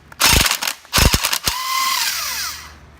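Wrench ratcheting while loosening flywheel bolts on a Viking 130 gearbox, with the flywheel tied off: several loud, close ratchet clicks in short bursts, then a fading metallic ring.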